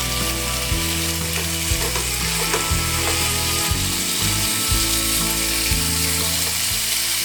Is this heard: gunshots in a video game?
no